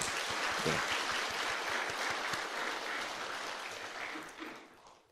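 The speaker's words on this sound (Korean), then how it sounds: "격려하며 박수 한번 쳐줬으면 좋겠습니다" A church congregation applauding together, a soft, fairly distant wash of many hands clapping that holds steady for several seconds and then fades out.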